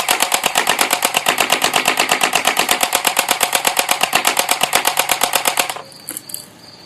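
A P90-style BB gun fires a long, loud, rapid automatic burst of evenly spaced sharp shots with a motorized buzz underneath, stopping abruptly near the end and leaving a faint rattle.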